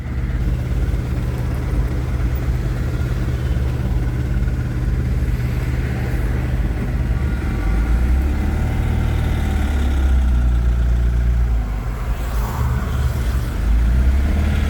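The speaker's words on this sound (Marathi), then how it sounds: "ट्रॅफिक जाम आहे सिटी सेंटर मॉलला." Dense road traffic jam at a busy junction beside a city-centre shopping mall, with a steady low drone of many idling car engines and occasional revs, continuous and close throughout.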